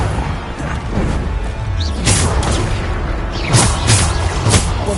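Blasting spell explosions in the Hogwarts Legacy video game boom and crash repeatedly over a dense, loud combat din, with several sharp impacts in close succession.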